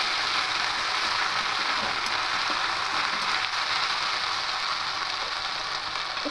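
Potatoes being stirred in a pan with a ginger and green chili paste, giving a steady close sizzle and scraping hiss that runs without pause, with no voices over it.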